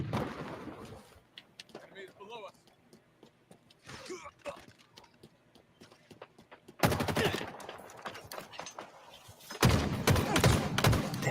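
Video game gunshots crackle in rapid bursts, starting sparse and faint under excited talk, then swelling into dense, louder volleys of automatic fire toward the end.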